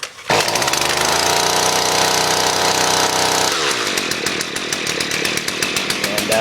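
A Husqvarna 128 LD string trimmer's small two-stroke engine runs loudly and close just after starting, buzzing at high revs before dropping to a rougher, pulsing idle as it settles into auto throttle.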